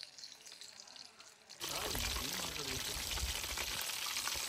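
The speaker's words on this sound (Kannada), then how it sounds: "ನೋಡಿ ಗೌಸ್ಲಕ್ಕಿನ ಎಣ್ಣೆಯಲ್ಲಿ ನೀಟಾಗಿ ಫ್ರೈ ಮಾಡೋಣ" Gausalakki pieces frying in hot oil in a pan, a steady broad sizzle that rises suddenly after a quieter start and then holds loud and even to the end, with no talk.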